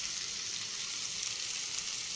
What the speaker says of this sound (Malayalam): ഉലുവയും അതിലിട്ടൊന്ന് പതുക്കെ ഇളക്കി കൊടുത്താൽ മതി. അങ്ങനെ പൊരിഞ്ഞ് വരുന്ന ശബ്ദം കേൾക്കുമ്പോൾ ഓഫ് ചെയ്യുക.